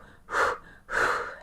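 Two quick, forceful breaths during a breathwork exercise, sharp gasping inhales close to the microphone with a short pause between them.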